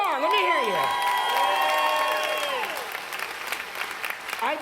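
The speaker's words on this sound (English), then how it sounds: "Let's make some noise for our success rock stars." Crowd at a Dreamforce keynote applauding and cheering loudly, with whoops over sustained clapping from a large audience in a big hall.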